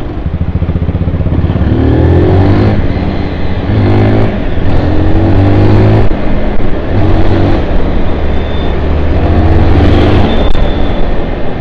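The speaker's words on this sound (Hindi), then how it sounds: "तो काफ़ी अच्छा जो है ये बाइक परफॉर्म कर रही है, भाग रही एकदम मस्त स्मूथ।" Zontes GK350 motorcycle engine running steadily while riding over a road, a loud continuous drone with rising and falling revs through gear changes, close and alone with no talk.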